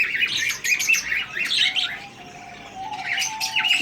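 Budgerigars chirp and tweet in a busy overlapping chatter of short bright calls, steady and fairly close throughout, with no voices.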